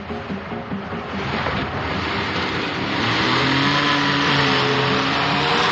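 A car engine rises and builds as the vehicle pulls away, revving higher with a broad wash of road and wind noise that grows louder over several seconds, with no voices.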